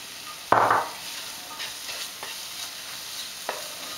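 Chorizo, two pieces, drops into a hot pan for a prawn chorizo risotto with a sharp burst of sizzling, then settles into quieter frying with a few soft stirring scrapes and taps, close and alone.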